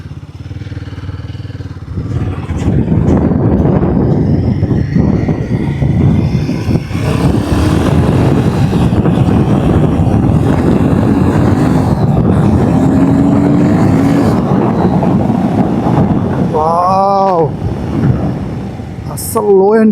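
Royal Enfield Guerrilla 450 motorcycle ridden on a highway, a steady loud engine drone and wind rush throughout, with a brief rising rev near the end; a rider talks over it.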